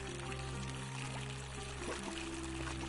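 Steady running water in the game The Forgotten City, a continuous quiet pour and trickle layered over a low ambient hum.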